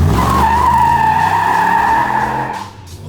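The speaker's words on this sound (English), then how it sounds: "What did you see him drift that corner?" An LS3-swapped Jeep Wrangler JK drifts through a corner, tires squealing in a long, loud, wavering howl over engine roar that fades away near the end.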